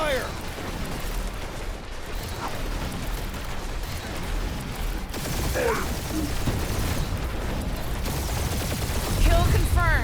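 Spaceship weapons fire rumbling through a dogfight in Marvel's Guardians of the Galaxy video game, a dense, continuous roar of blasts and engine noise with whooshing sweeps, growing louder toward the end.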